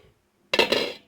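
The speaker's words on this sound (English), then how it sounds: "So I'm going to put the lid on this now." A metal lid is set onto a glass canning jar filled with homemade pasta sauce, giving one short clinking clatter that rings briefly and fades, close and fairly loud.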